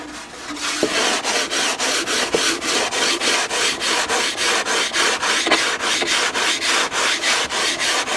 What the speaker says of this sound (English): And then I can get a block with some 220 paper and probably finish it off with 320.